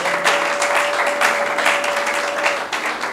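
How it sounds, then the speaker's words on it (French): A church congregation applauds together, dense sustained clapping filling the space at a steady level, with a faint held tone running beneath for most of it. "Acclamons pour la gloire de notre Dieu."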